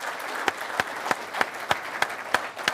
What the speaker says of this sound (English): Let's give each of them a round of applause as I welcome them.